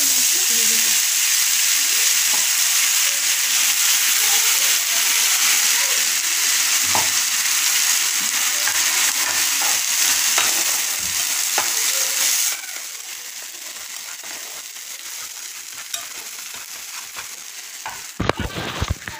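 Ginger, garlic, onion, tomato and green chilli paste sizzles steadily in hot oil with nigella seeds, a loud continuous frying hiss that drops in intensity partway through, with a few clattering stirs near the end.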